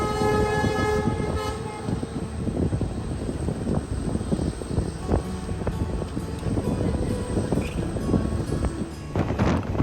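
A train runs through Sankval railway station in Goa on the route to Dudhsagar, a loud continuous rolling rumble with clattering wheels and a sustained horn at the start.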